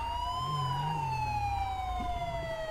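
A police siren wails steadily in the GTA 5 video game, a continuous descending tone over a low vehicle rumble, loud and close throughout.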